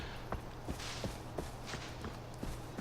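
Footsteps in the video game Far Cry 4 fall in a steady walking rhythm, about two soft thuds per second, faint and close over a low, rough ambient bed.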